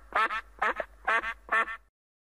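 A duck quacks in four quick double-note bursts, close and clear, with a faint low hum underneath before it falls silent.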